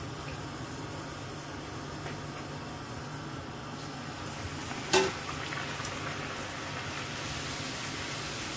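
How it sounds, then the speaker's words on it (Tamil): Puri deep-frying in hot oil makes a soft, continuous low sizzle with one brief sharp clatter partway through, no voices. "அதில் பூரியை போட்டு எடுக்க போகிறோம்."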